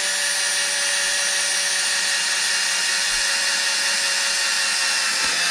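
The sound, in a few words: drilling hole in BMW R1250GS hand guard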